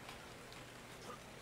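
Steady rain patters across the whole stretch, a dense, even hiss of drops with no voices, like rainfall in a game's ambient soundscape.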